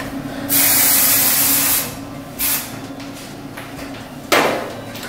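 Hairspray sprayed onto hair while following a 1980s hair tutorial: one long loud close hiss, then a short burst, and a final quick spritz, with no talk.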